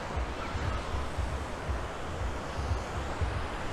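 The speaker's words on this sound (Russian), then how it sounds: "Ну и так, я возле океана." Ocean surf rolls onto the beach at Fañabe in Costa Adeje, Tenerife, as a constant wash of breaking waves mixed with wind buffeting the microphone. The sound is steady and fairly close, with no talk.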